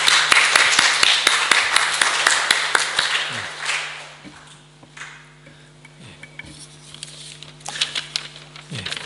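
Church congregation clapping to welcome a visiting pastor and his wife at a Sunday service, a dense patter of hands for a few seconds that thins and fades, leaving low hum and sparse claps near the end.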